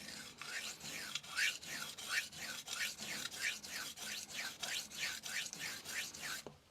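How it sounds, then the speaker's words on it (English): A knife is drawn across a 200 grit NSK Kogyo vitrified diamond sharpening stone in a quick, even rhythm of about twenty short, close, gritty rasping strokes, with no talk. "Let's listen to this 200 grit NSK Kogyo."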